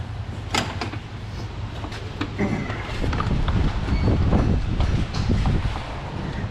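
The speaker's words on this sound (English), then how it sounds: "Very windy today." Steady roaring wind buffets throughout, loud and close with gusty rumble and clatter, no voices.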